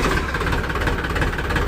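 A New Holland 3037 NX 39 HP tractor engine idles close by, a steady low diesel rumble with a faint uneven knock, alone and without talk.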